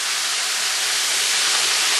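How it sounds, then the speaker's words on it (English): Pork chops fry in hot oil, giving a loud, steady, unbroken sizzle that fills the whole moment with no voices over it. "I've been frying them for about 5 minutes"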